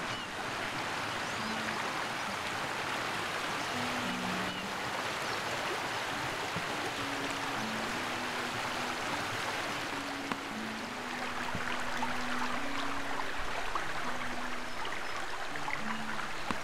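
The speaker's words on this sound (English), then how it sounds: "you spot a waterfall far away and walk towards it" A waterfall in the Anthymn prototype video game gives a constant rushing wash of falling water, steady and fairly loud throughout, with soft low tones drifting underneath.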